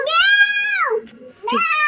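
A child imitates a cat's meow with two drawn-out, high, tonal meows separated by a short pause, close and clear.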